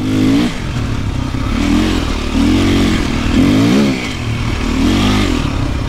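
A motorcycle engine revs loudly and close in repeated rising-and-falling surges, with a rough, steady mechanical drone between the pulses.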